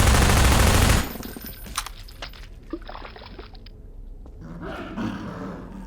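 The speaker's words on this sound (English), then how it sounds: "You can't kill the sentry gun, but it's protecting power-ups." Sentry gun fire in Half-Life 2 Episode 2 opens as a loud, dense burst of rapid shots that stops abruptly, followed by quieter clanks, impacts and game ambience.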